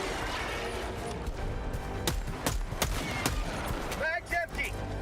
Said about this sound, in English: if the pistol can take them down